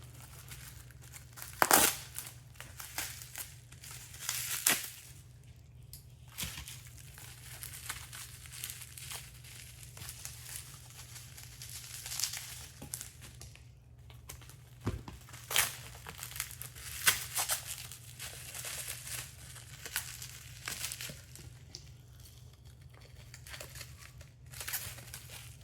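Packaging for replica skulls is crinkled, torn and opened with worn scissors, with irregular close crackling, rustling and snipping bursts scattered over a low steady background hum.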